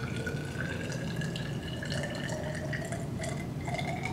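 Deionized water poured steadily into a 50 ml glass graduated cylinder in a lab, a continuous close trickle with rising pitch as the cylinder fills, no talking.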